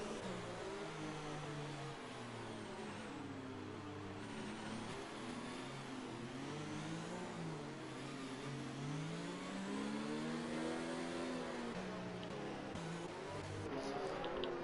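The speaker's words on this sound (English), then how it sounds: "V-Rider has just overtaken Big Slater, or his AI car" Race car engines in a racing video game set at Singapore, several engines droning and rising in pitch as they rev and shift, steady and continuous throughout.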